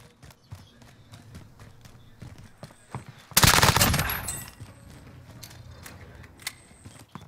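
Rapid automatic gunfire in Call of Duty: Modern Warfare, a single loud, dense burst lasting under a second, surrounded by quieter footsteps and scattered distant shots.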